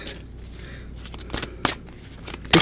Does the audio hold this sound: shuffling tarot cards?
yes